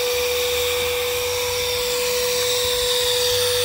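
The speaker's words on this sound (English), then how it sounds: "Turn down your volume and I'll blow the whistle." A steam whistle on a new 20-inch-diameter boiler with copper tubes gives one loud, steady, piercing blast that holds without a break from start to end, with a low rumble beneath it.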